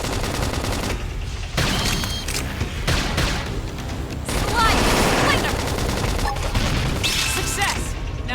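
Loud gunfire from Xenoblade Chronicles X comes in dense, rapid bursts like machine-gun fusillades, mixed with crashes and booms. It pauses briefly and then resumes at full intensity.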